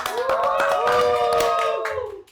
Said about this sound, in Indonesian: Tepuk tangan ayo dong.